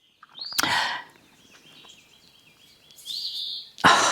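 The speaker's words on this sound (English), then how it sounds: "all these birds are singing" Bright bird chirps and warbling calls ring out in short phrases, separated by quiet gaps with faint background chatter.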